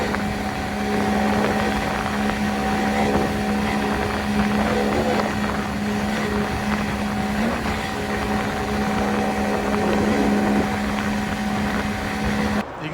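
An outboard jet engine drives a boat whose exhaust fin has been modified, giving a steady, loud drone with wind and water rush throughout and no break in the sound.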